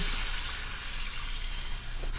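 Half a cup of water pours into a hot pan of pork with onions and soy sauce, making a continuous splashing hiss and sizzle at close range with no talk.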